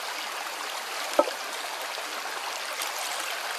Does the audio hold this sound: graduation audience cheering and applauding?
no